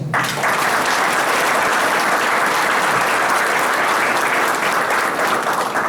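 Sustained applause from an audience honoring journalist Juan Manuel García, dense and steady clapping at full volume throughout, with no pauses.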